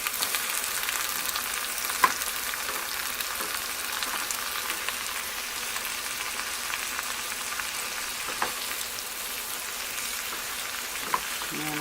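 Spinach frying in a pan, a steady close sizzle and crackle throughout with a few sharper pops as the leaves are turned.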